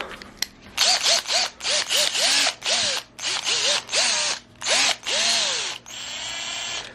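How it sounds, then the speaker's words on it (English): Repeated short bursts of a power drill whirring as it unscrews an Avalon 737sp unit, each rising and falling in pitch, with brief pauses between, followed by one longer steady run. "we're going to unscrew this bad boy. How do we do that? We get a drill."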